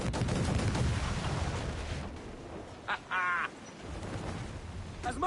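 Naval battle in Assassin's Creed Black Flag, with heavy rumbling cannon and gunfire booms filling the opening seconds, then a lull broken by a few sharp bursts and a rattling volley, before the broad roar returns.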